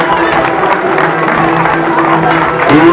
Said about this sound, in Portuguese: querem as vossas palmas desta manhã